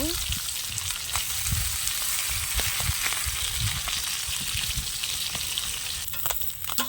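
Fish sizzles steadily in a frying pan, a continuous close crackle of hot oil with brief scraping touches, loud and unbroken without any voices.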